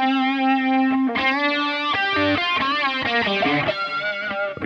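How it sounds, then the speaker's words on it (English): Electric guitar notes and chords through a NUX Mighty Plug Pro ringing out with tape echo repeats and a light reverb wash, played alone and clearly. "nice tape echo and a little bit of reverb"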